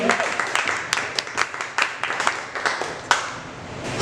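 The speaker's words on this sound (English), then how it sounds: "Let's give a huge round of applause to the guys here at Gypsy for having us tonight." A small audience claps at a performance in a brewery, scattered hand claps building into brief applause that tapers off over a few seconds, close and moderately loud with no clear voices.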